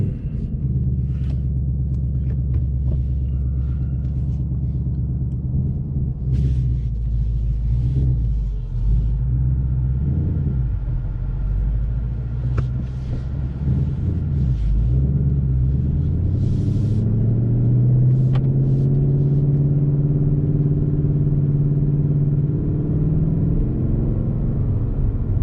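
A race red Ford Mustang Mach 1 rolls along a road with a deep, loud engine rumble that swells and climbs in pitch as it accelerates, steady throughout with traffic around.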